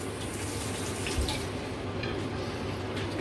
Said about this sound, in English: Let's rinse that out again.